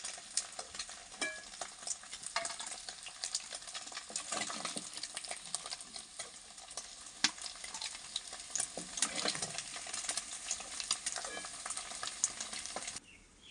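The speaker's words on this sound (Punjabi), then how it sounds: "ਲੋ ਜੀ ਪਨੀਰ ਆਪਣਾ ਫਰਾਈ ਹੋ ਗਿਆ ਹੁਣ ਆਪਾਂ ਇਹਨੂੰ ਤੇਲ ਤੋਂ ਬਾਹਰ ਕੱਢ ਲੈਨੇ ਆ" Paneer cubes deep-frying in hot oil, a dense, continuous sizzle and crackle, steady and close, with no talking over it.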